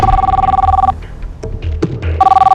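Telephone ringing in bursts, loud and close, with a pause of quieter room noise in the middle before the ring resumes.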